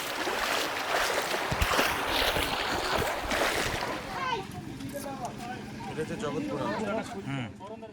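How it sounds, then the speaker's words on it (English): Floodwater rushing along a submerged road during the 2024 Bengal flood, a loud continuous watery roar and splashing, with people talking nearby throughout and some wind noise. "The sound of stream was still on."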